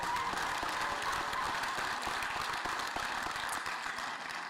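An outdoor crowd claps in a steady round of applause at the grand reopening of Finlay Park in Columbia, the dense patter continuing throughout and easing slightly at the end.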